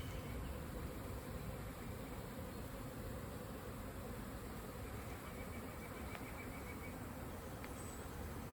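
Honeybees swarm busily around urban beehives in spring sunshine, a steady dense buzzing hum that fills the air continuously without pause, with no voices present.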